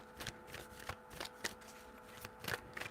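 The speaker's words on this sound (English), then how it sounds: "3 shuffles." Tarot cards being shuffled, a quiet series of soft papery riffles and flicks in irregular bursts, close up with no talking.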